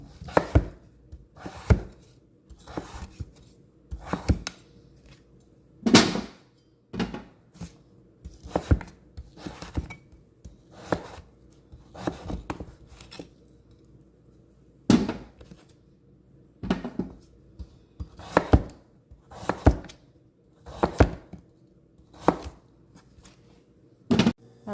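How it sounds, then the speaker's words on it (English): Knife chopping acorn squash into bite-sized pieces on a board, sharp close cuts in an uneven rhythm of single strokes and quick pairs, with short pauses between and no talk. "we're just gonna go ahead and cut them into bite-sized pieces, just like that."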